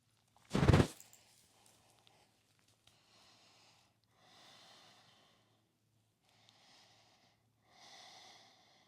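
Slow, soft breaths while a yoga posture is held, a sharp nasal snort near the start followed by four quiet, evenly spaced exhalations separated by near silence.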